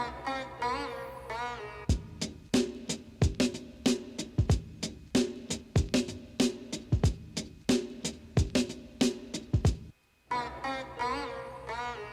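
Hip-hop drum beat with punchy kicks and crisp snares in a steady groove, with music running beneath and a brief dropout near the end.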